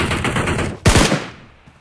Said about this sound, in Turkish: Bir dakika arkadan da sıkıyor.